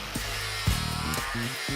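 An angle grinder with a Klingspor fibre disc blends a metal surface, giving a steady high-pitched whine with slight shifts in pitch as the disc loads against the workpiece, close up.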